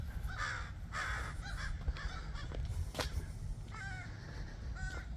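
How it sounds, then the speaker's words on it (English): Several crows caw in a backyard vegetable garden, harsh calls repeating at a moderate distance over a steady low outdoor hum. "these crows have been hanging around here a lot."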